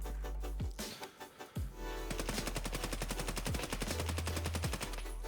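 An AKS-74U rifle fires in Escape From Tarkov, with a few short bursts followed by a long sustained run of rapid automatic shots, loud and close.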